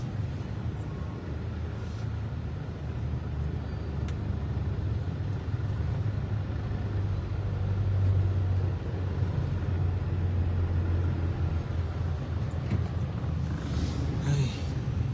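Heavy road traffic near a Robinsons mall gives a steady, low engine rumble that hangs in the background throughout, with faint crowd noise over it.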